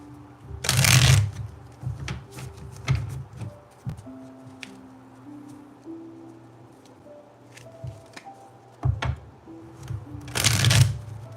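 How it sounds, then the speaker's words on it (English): Tarot cards being shuffled in two quick, close riffling bursts, one at the start and one near the end, with faint sustained musical tones and light handling noises between them. "let's get you 3 tarot cards"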